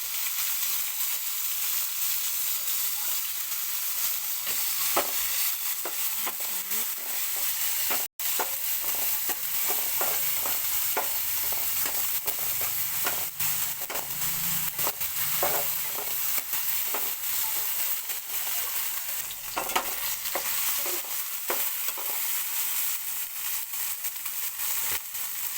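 Tomatoes and ampalaya (bitter melon) being sautéed in a pan at home, a steady sizzle with scattered scraping stir strokes running throughout, fairly quiet and without voices.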